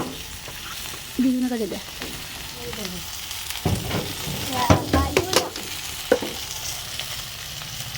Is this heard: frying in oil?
yes